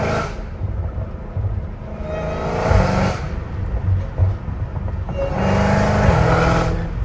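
A Dodge Hellcat Redeye with a fully catless exhaust accelerates hard, its loud roaring engine surging in two long pulls with a rumbling idle-like drone between them, heard close from inside the car.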